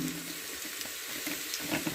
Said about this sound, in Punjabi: ਆਪਾਂ ਪਾਵਾਂਗੇ ਇਹਦੇ ਵਿੱਚ 1 ਲੀਟਰ ਪਾਣੀ